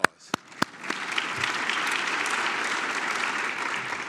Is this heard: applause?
yes